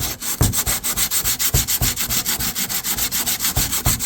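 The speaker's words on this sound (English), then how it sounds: "then I'm gonna start sanding this stuff and see how it comes out" Sanding a 3D printed part for a 1/6 scale 1966 Batmobile model, with loud, close, rhythmic back-and-forth rubbing strokes repeating steadily at about five per second, alone without talk.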